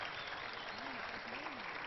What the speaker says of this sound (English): You're applauding because you haven't tasted it.